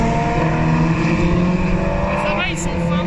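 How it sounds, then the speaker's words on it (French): Single-seater race cars at the Magny-Cours circuit, a loud continuous engine roar with a rising whine as one passes close, heard alongside spectators talking. "Quand j'ai vu que c'était les monoplaces, j'avais envie de les voir."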